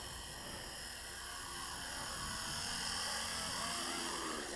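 A Blade SR 200 X radio-controlled helicopter flying outdoors in wind: a continuous high, buzzing whine of the rotor and motor that holds steady and grows slightly louder, heard alone without talk.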